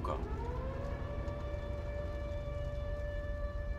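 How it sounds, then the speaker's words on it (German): A civil defense siren in the Resistance 3 video game rises into a sustained, loud wailing tone that holds steady, heard alone. "Wir hörten die Sirenen und machten uns alle auf zum Bunker."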